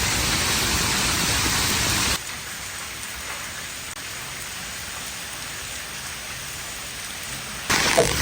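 Steady heavy rain falling over flooded farm fields, a dense continuous hiss that drops to a softer patter partway through before swelling loud again at the end.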